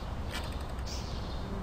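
A door in the Ice Scream video game creaks open with a thin, drawn-out squeal, fairly quiet against a constant hiss and faint game background noise.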